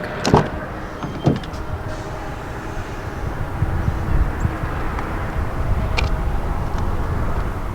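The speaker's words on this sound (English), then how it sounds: "all you have to do is reach behind the handle and it will unlock" A 2020 Honda Civic LX sedan door unlocks when a hand reaches behind the handle, giving a couple of sharp latch clicks close by, followed by the door opening against a steady low outdoor rumble.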